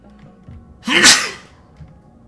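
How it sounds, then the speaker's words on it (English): A person gives one sharp, loud sneeze close to the microphone, a quick intake followed by a bursting exhale that fades within half a second in an otherwise quiet room. "Excuse me, I'm sneezing."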